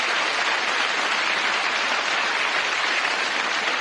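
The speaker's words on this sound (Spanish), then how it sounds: "Un gran aplauso para todos." An audience at a professionals' gathering applauds in a steady, dense wash of clapping with no voices over it.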